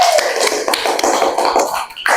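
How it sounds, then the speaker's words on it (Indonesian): Students in an Islamic religious education classroom clap for the first discussion group, a close, steady patter of many hands lasting about two seconds, with a brief dip near the end before picking up again. "Tepuk tangan buat kelompok 1."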